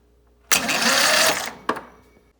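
A single-cylinder lawn tractor engine fitted with a replacement starter gives a loud, rough burst lasting about a second as it cranks, then a second short burst that trails off into quiet.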